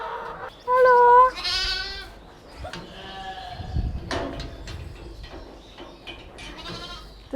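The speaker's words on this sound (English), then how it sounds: "This is more my thing, but sheep and goats." Sheep and goats on a campus farm bleat several times in short wavering calls, one loud and close near the start and others farther off, with brief human voices between them.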